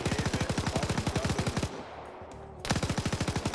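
Automatic weapon fire in a PvP video game match, emptied at point-blank range: rapid, evenly spaced loud shots stream for over a second and a half, break briefly, then resume with the same steady rhythm.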